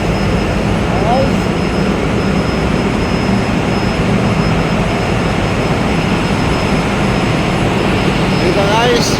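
A ship's main engine runs in the engine room, a loud, steady broadband roar that fills the whole space without a break.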